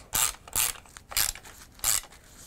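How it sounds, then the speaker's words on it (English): A ratchet tool tightening the clamp on a bike saddle seat post gives four loud, evenly spaced clicking bursts close up, with no talking. "And then I'll use my tool and completely finish tightening this."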